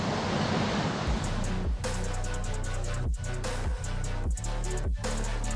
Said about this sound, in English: Passengers watch waves crash just inches from the windows